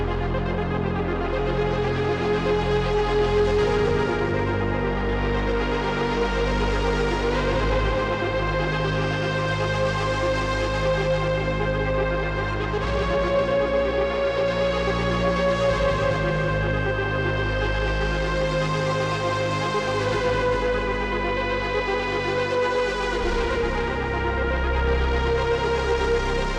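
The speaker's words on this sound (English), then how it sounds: "What you're hearing is a single performance from one instance of one preset on the ContinuuMini." A Haken ContinuuMini synthesizer plays one preset as a single performance: a sustained, layered sequence with a deep bass line added from a Korg Nano keyboard and a melody played on the playing surface. The music is steady, full and loud throughout, with no talking.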